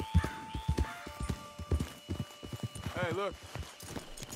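Horse hooves clip-clop in steady, uneven beats in Red Dead Redemption 2, close and fairly clear, with a horse whinny partway through and a voice speaking over the hoofbeats.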